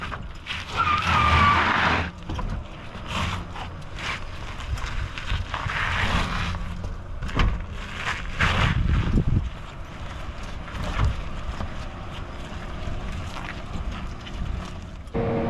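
Rivian R1T electric pickup driving off-road, with tires skidding and crunching over loose ground amid gusting wind noise on the microphone, loud surges and slides recurring through the run with no engine note.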